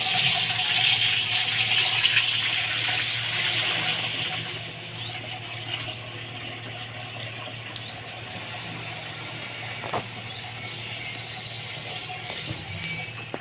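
Soaked wheat is washed by hand in water, heard as steady sloshing and splashing that is louder at first and then settles into a quieter swirl, with occasional small knocks.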